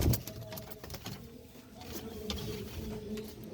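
A pair of pigeons kept with their two chicks gives soft, low cooing close by over faint background rustling and shuffling, with no one speaking.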